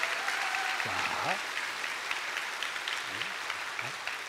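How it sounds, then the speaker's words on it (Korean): A room full of people claps steadily to welcome a missionary and his wife, applause sustained throughout at moderate volume, with a voice speaking briefly over it. "우리 박수로 환영하겠습니다"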